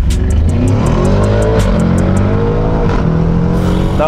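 A 730 hp stage 2 Audi RS6 pulls hard against a Tesla Model 3 Performance, its engine roaring loud and close and climbing in pitch through quick gear changes, ticking and clicks overlaid on the steady drone.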